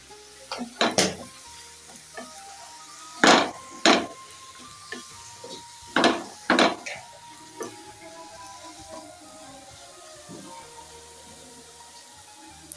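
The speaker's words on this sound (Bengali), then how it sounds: "হলুদ দিয়ে আবার একটু নাড়িয়ে নেব।" Turmeric and coriander powder stirred in a cooking pan, a series of sharp scraping and clattering spoon strokes in uneven bursts over a faint background sizzle, close up with no talk.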